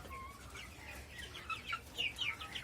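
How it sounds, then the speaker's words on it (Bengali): Chickens raised on a small low-cost farm cluck repeatedly while eating, a busy overlapping chorus of short calls growing livelier toward the end over steady low background noise. "আর মুরগি তো পাগলের মতো খাচ্ছে"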